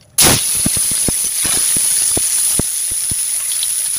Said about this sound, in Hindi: और ये हम फ्राई कर लिए हैं सोयाबीन